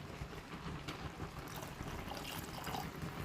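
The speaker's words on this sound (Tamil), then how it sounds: "இப்போ சாம்பார் தேவையான அளவு தண்ணி ஊற்றிக்கலாம்." Water poured into a cooking pot for onion sambar: a continuous close splashing trickle, steady for a few seconds with no talk.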